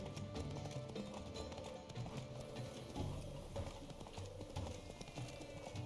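Hooves of Roach, a galloping horse in the video game The Witcher 3: Blood and Wine, pound in a steady rhythmic clip-clop at moderate loudness for the whole stretch, with game ambience underneath.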